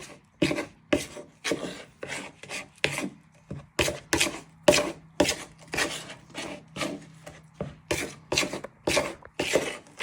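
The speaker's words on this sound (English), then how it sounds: "So you're giving it a good stir with a knife so it all binds in nicely together." A knife stirs flour, butter and water into pastry dough for a pumpkin pie, giving a steady run of close scraping and rasping strokes with a quick, repeated rhythm.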